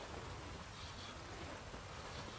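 Steady rain in The Witcher 3 video game, a dense, even hiss of falling water with no breaks, moderately loud and constant with no voices.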